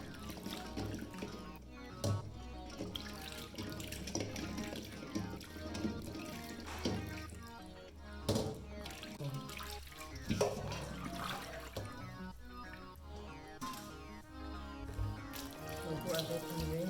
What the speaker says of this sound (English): Go ahead and rinse the egg.